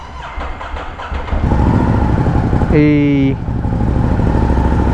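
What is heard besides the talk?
new motorcycle engine starting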